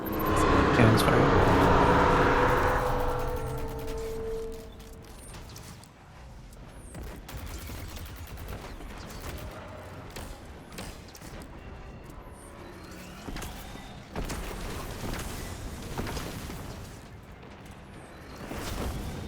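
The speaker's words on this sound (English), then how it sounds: "Cannon's fired." Cannon fire in Terraria, Calamity mod Death Mode, opens with a loud booming burst that fades over a few seconds. Quieter game noises and talking follow, with another sharp hit partway through.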